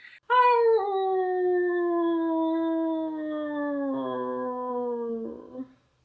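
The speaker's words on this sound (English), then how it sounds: "Bear then let out the most heartbreaking howl that Saoirse had ever heard" A dog's long, mournful howl used as a sound effect in a spoken story holds a steady pitched tone for about five seconds, sliding slowly downward before fading out, loud and alone.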